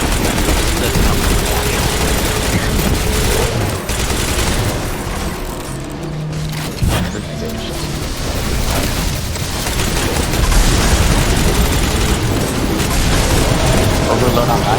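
Continuous gunfire and booming blasts during the Vault of Glass raid in the shooter game Destiny, loud and dense for the whole stretch, with players talking over the din.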